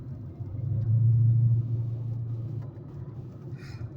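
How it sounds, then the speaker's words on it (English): A FedEx delivery truck drives past outdoors in Wales, its low engine rumble swelling to a peak, then fading gradually over several seconds. "See, that's just a regular FedEx truck"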